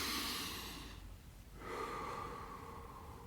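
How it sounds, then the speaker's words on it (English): Slow, deep breathing during guided meditation: a long audible inhale, a brief pause, then a soft exhale, close and quiet with no talking. "Let's breathe into that."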